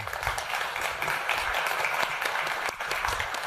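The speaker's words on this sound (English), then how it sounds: "Please give a very warm round of applause for Steve Douglass." Audience at an Embedded World 2022 keynote applauding as speaker Steve Douglass comes out, steady crowd clapping with slight dips and swells throughout.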